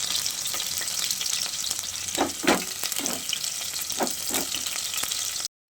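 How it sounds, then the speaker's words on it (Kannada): Onions crackle and sizzle in hot oil for a tempering, a dense steady hiss close by. A few louder stirring scrapes rise briefly midway, and the sound cuts off abruptly at the end. "ಅದ್ರಲ್ಲಿ ಎಣ್ಣೆ ಬಿಟ್ಕೊಬಿಡುತ್ತೆ ಅಂತ ಅಷ್ಟೇನೇನಿಲ್ಲ. ಈರುಳ್ಳಿ ಹಾಕೊಂಡೆ, ಸ್ವಲ್ಪ ಈರುಳ್ಳಿ ಒಗ್ಗರಣೆಗೆ."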